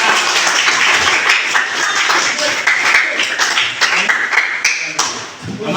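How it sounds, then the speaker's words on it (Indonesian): A classroom of students claps together in a dense, continuous burst of applause that holds steady for several seconds, close and loud, with voices mixed in. "Kasih tepuk tangan."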